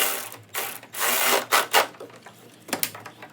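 Ratchet tightening a bolt on a Nissan Z31 radiator shroud during a dual electric fan upgrade, several short close bursts of ratcheting clicks and rubbing scrapes in quick succession, no talk.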